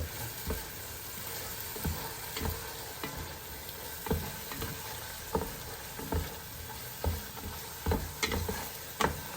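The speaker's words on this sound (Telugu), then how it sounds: "ఇది మన గరం మసాలా ఇది మిక్స్ చేసుకున్నాం" Garam masala being stirred into tomato rice in a pan: a spoon scrapes and taps the pan in irregular strokes over a steady, soft sizzle, close and moderately loud.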